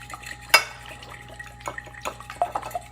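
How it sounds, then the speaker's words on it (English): A fork whisking liquid in a bowl for an orange chicken recipe, giving light clinks and splashy scrapes, with one sharp metallic tap near the start, close and moderately loud with no talking. "So I'm just going to whisk this."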